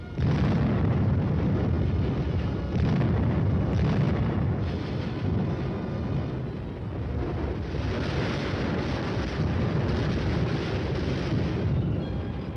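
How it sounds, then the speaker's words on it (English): A Cold War artillery barrage pounds a target with a dense, continuous roll of overlapping explosions and deep booms, loud and sustained throughout with no pauses. "the firing data is prepared and the guns respond"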